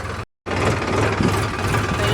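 A farm tractor's engine runs steadily after a brief cut, a close, continuous mechanical chugging hum heading out at dusk to load wheat bundles, with no talk over it.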